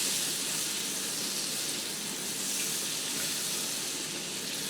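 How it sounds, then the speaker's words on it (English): Butter melting into bacon grease in a skillet while cooking asparagus gives a steady, soft broadband sizzle that holds evenly throughout, close and without any talking. "I'm going to melt this in the butter or in the bacon grease to try to keep the butter from scorching and browning."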